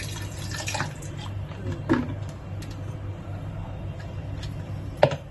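A little water is poured around homemade makhan in a bowl, giving soft close splashes and trickles with a couple of sharp knocks.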